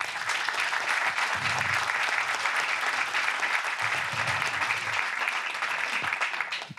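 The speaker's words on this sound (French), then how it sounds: "Je vous demande de les applaudir." Dense applause from a crowd at a village New Year's greetings event in Ladornac, Dordogne, steady and fairly loud throughout and fading slightly at the very end.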